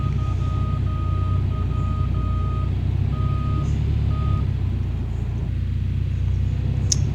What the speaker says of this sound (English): We got a rock truck coming